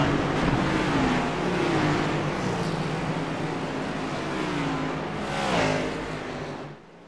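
Race cars in a Daytona racing video game drone past in a steady engine roar, with rising and falling pitch sweeps as cars pass close by, loud and continuous.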